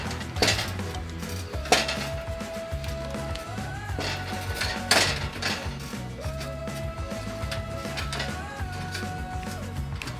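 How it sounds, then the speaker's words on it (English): Fufu dough is stirred in a pot, with repeated scraping and knocking of a utensil against the pot in a steady working rhythm under faint background music. "Keep stirring until it comes to the final stretch"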